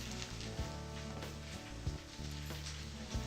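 Vegetables sizzle in a pan, a steady close crackle of frying with occasional stir knocks and louder bursts.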